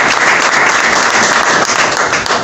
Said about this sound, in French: Est-ce qu'on peut acclamer pour ça?